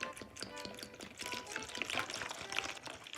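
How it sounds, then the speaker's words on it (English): Water pours into a soaking solution of sake for fish eggs, a quiet continuous splashing trickle lasting several seconds with no talk over it. "Then we're gonna put some water."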